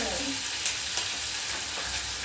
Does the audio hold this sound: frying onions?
yes